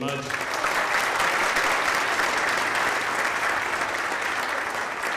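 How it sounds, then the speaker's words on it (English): Audience applause at a school concert marking Music In Our Schools Month, a steady dense wash of clapping from many hands that holds strongly for about five seconds with no pauses. "How about a round of applause for Jordan Mudge?"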